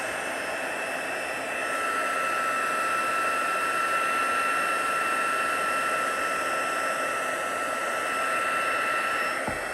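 A heat tool blows a steady, loud, continuous whir while heat-setting embossing powder on a handmade greeting card, holding an even tone throughout without a pause.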